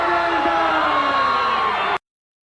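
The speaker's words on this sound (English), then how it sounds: "Okay, the crowd popped." A wrestling crowd cheers and whoops loudly and continuously for about two seconds, then cuts off abruptly into silence.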